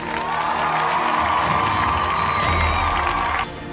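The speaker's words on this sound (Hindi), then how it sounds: "तो इसके लिए पहले आप सबके लिए ज़ोरदार तालियाँ।" A loud crowd cheers and whoops continuously for a few seconds over a steady sustained tone, then cuts off abruptly near the end.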